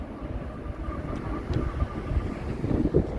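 A train sits idling before departure, its low diesel rumble steady under wind buffeting the microphone, with a faint tonal hum and a few soft clanks in the background.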